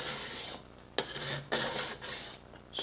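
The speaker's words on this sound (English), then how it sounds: "So I thought I'd show you guys the technique that I'm using to scrape down this." Wooden paddle being scraped down by hand, held between the knees: repeated rasping strokes, several distinct passes with short pauses, close and moderately loud.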